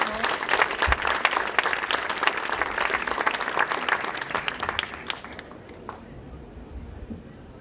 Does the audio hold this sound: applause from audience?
yes